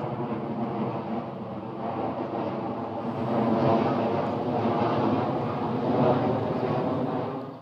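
An airplane passes overhead with a steady, broad engine roar that swells slightly toward the middle and end while staying fairly distant and continuous.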